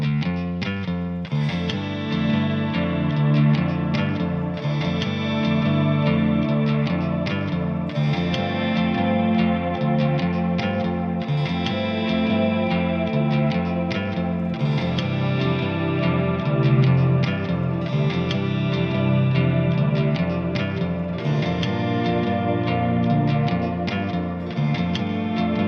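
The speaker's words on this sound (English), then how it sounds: "I'm gonna apply some effects on my guitar." Electric guitar chords played through an effects unit, thick with echo, chorus and reverb plus some distortion, shifting over a static bass line; loud and continuous with no talking.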